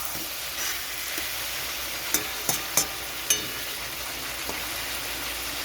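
Papaya and potato sautéing in a pan for a katla fish curry: a steady sizzle and frying hiss throughout, with a few sharp clinks and scrapes from stirring, and no voices.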